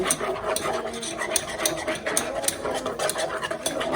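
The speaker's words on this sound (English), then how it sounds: "we're going to keep whisking because we're trying to get it a dark color" A whisk scraping and clinking rhythmically against a pot while stirring a vegan roux for gumbo, quick repeated strokes that keep up close and steady.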